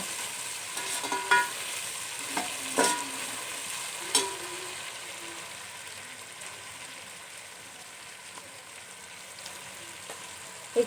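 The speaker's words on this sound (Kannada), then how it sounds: "ಚೆನ್ನಾಗೆಲ್ಲ ಫ್ರೈ ಮಾಡ್ಕೊಂಡು" Spices with turmeric frying in a pan, a soft steady sizzle with a few brief clinks and stirring scrapes scattered through; no talking.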